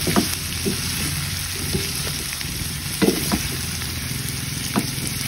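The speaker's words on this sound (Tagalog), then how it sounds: "Igigisa lang natin siya dito para kumapit yung lasa ng bawang at sibuyas." Fried tofu sizzles in a pan with garlic and onion while being stirred, a steady crackling fry broken by several sharp scrapes of the utensil against the pan, close and clear.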